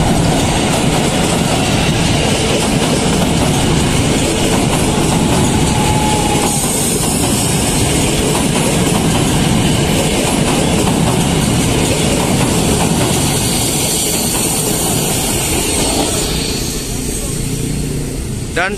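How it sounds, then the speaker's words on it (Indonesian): A train rolls past on the track at close range on an old Jakarta rail corridor near Kampung Bandan, a loud continuous rumble with rhythmic wheel clatter and occasional squeal that holds throughout before easing slightly at the end. "Dan inilah kereta yang beroperasi sekarang."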